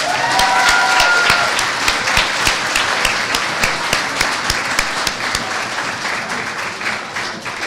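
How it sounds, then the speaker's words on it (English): An awards-ceremony audience claps loudly, a dense, even burst of applause with sharp individual hand claps standing out, continuing strongly before tapering slightly toward the end. "Should we give another round of applause for Caper?"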